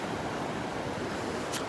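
Ocean waves roll in at Delnor-Wiggins beach, a soft continuous wash of surf with some wind buffeting the microphone, steady and moderately faint throughout, no talking.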